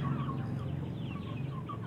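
Free-range village chickens in a box cage cluck and murmur softly, several birds in short overlapping calls over a steady low hum, nearby and moderately loud.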